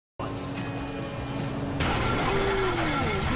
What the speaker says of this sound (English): Now that doesn't sound good. Damn, that's the engine, man.